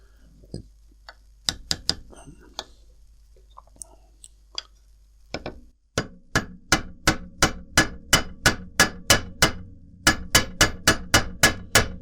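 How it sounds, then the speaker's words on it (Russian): A small hammer taps a carbon-steel Opinel No. 9 knife held in a vise, giving sharp metallic knocks, a few irregular ones at first and then a long steady run of evenly spaced close taps. "немножко стукну сейчас молоточком"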